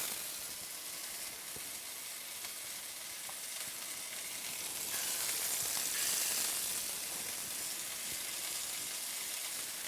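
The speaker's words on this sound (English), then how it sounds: "When you put that meatball in there, it's going to sizzle." Turkey meatballs browning in a hot pan give a steady, close sizzle and hiss of frying, with a brief swell of louder spitting midway and no voices.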